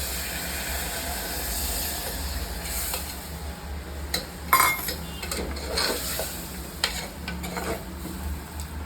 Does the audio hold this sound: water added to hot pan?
yes